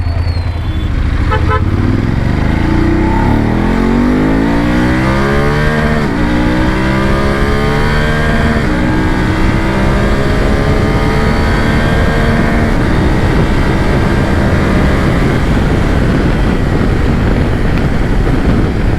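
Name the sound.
BMW 850GS motorcycle engine started and running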